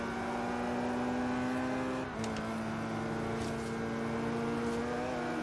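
Opel GT engine in Forza Horizon 3, a loud, steady droning hum under acceleration with a brief dip as a gear shifts, then holding its pitch.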